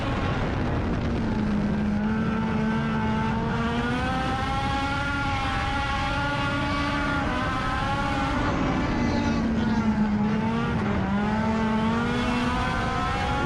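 Sport compact race cars roar around Hattiesburg Speedway during the final lap, a steady, loud engine drone with rising and falling pitch as the cars pass, heard without talk.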